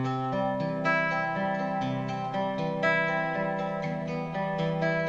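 Guitar processed through the Oril River reverb plugin, chords ringing with a smoothed, spacious wash that blurs each change into the next, steady and close with no talking.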